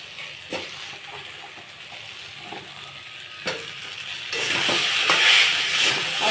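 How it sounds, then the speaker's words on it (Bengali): Taro and potatoes frying in a spice masala for a fish curry with drumstick stems, a steady broadband sizzle with scraping stir strokes that grows louder and more intense in the last two seconds. "কচু দিয়ে একটু কষিয়ে নিয়ে এখন আলুগুলো দিয়ে দেবো।"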